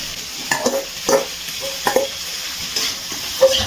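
Fried prawns are stirred into spiced potatoes and peas, giving several distinct spoon scrapes and clacks against the pan over a low sizzle, close and fairly loud.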